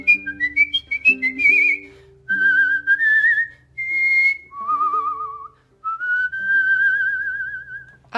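A musician whistles a bright, warbling melody of short and sustained notes with vibrato, close and clear over a soft instrumental backing, with no talk.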